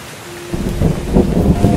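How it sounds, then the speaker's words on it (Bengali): Heavy rain pours steadily in a cartoon night scene, a dense low rushing wash that swells partway through with rumbling undertones like distant thunder; no voices. "সন্ধ্যা হয়ে গেছে, প্রচণ্ড বৃষ্টি হচ্ছে"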